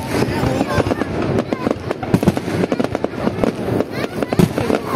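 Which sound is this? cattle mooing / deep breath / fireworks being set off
fireworks being set off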